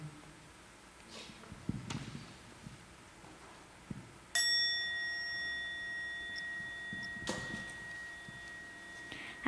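A single monastery morning bell struck once at a moderate distance, its bright metallic tone ringing on with a long sustained decay, followed by a second softer strike; faint footsteps and small room noises come before it.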